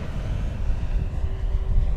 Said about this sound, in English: Plane's got a really great presence in the air. And it just sounds phenomenal.